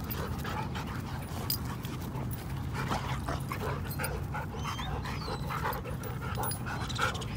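Two dogs at a dog park pant steadily, with occasional soft whimpers and yips, close to the microphone against a constant outdoor background hum and no speech.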